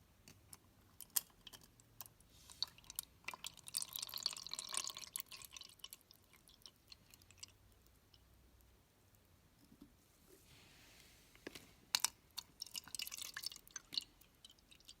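Distilled water trickles and drips into transparent containers in soft, irregular bursts, with quiet clicks and splashes, a few louder spells near the middle and end.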